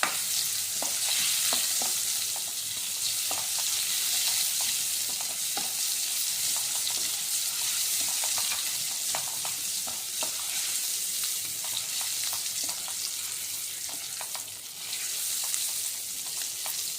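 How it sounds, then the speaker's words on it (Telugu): Spices and asafoetida tempering in hot oil with urad dal, a continuous bright sizzle and crackle with occasional stirring scrapes, close and steady throughout. "పోపు దినుసులు వేగాక కరివేపాకు, ఎండుమిరపకాయలు వేసుకోండి"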